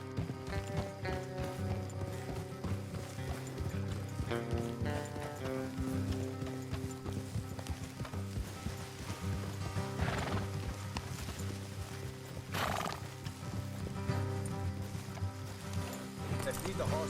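Horses in the Red Dead Redemption 2 game clip-clop steadily along a road, with neighs and whinnies rising over the hooves, set against a music bed and some talk.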